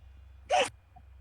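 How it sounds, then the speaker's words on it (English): One short, sharp human sneeze, a single burst against a quiet background during a tabletop role-playing game session. "Who sneezed?"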